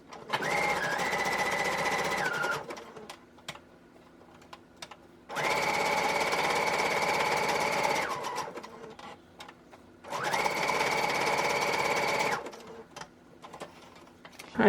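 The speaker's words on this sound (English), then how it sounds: "I'm going to take my sewing machine and sew the pocket on" A sewing machine stitches a vellum pocket onto a tag in three distinct runs of steady mechanical whirring, each lasting a couple of seconds, separated by quiet pauses with faint handling clicks.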